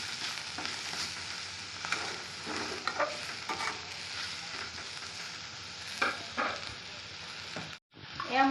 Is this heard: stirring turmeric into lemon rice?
yes